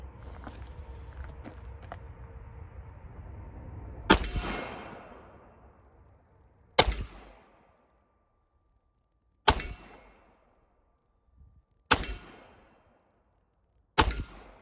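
Five loud, sharp shots from a Colt 1902 pistol firing .38 ACP rounds, fired one-handed at a range. Each is evenly spaced a few seconds apart and rings out with a decaying echo.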